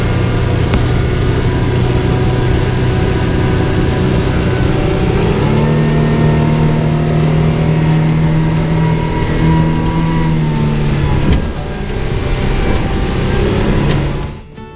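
A Honda outboard boat motor runs steadily at sea off Coffs Harbour, a loud continuous engine drone with a low hum that rises in pitch midway, then drops off near the end; no talking.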